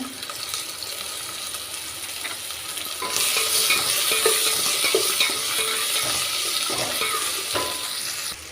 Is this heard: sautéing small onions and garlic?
yes